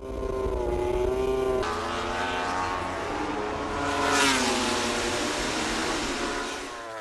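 Racing motorcycle engines scream past during practice laps on the 3.7 km Sachsenring track, rising and falling in pitch as they accelerate and shift, loud and continuous with no voices.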